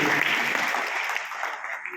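A classroom of schoolchildren gives a brief burst of clapping, a close, busy patter that softens slightly over a couple of seconds, with some voices mixed in.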